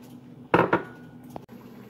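Boiled mashed potatoes for Amritsari aloo kulcha filling, with salt, fennel seed, coriander and other spices, get mixed by hand in a bowl: two quick, fairly loud knocks of a utensil against the dish, then quiet scraping.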